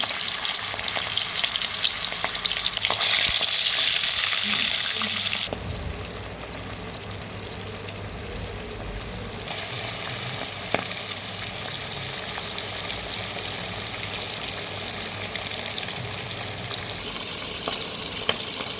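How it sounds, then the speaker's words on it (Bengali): Pangas fish frying in hot oil gives a dense, steady hiss and crackle that stays loud throughout, shifting in intensity as pieces settle, with no voices present. "মাছ ভাজার জন্য তেলটা আগে পর্যাপ্ত পরিমাণে গরম করে নিতে হবে, তারপরে আস্তে করে ছেড়ে দিতে হবে"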